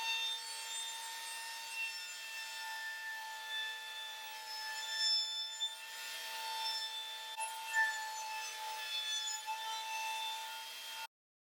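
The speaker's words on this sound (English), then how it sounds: "With the random orbit sander, I sanded each piece before gluing it up" Random orbit sander working over wood pieces, a steady high-pitched whine with a continuous buzzing hum and faint scraping that holds level for about eleven seconds before cutting off abruptly.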